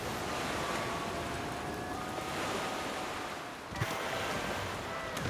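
Steady rushing water from a river under a raft in the survival game The Flame in the Flood, a continuous broadband wash with faint wind and one brief splash near the end, no voices.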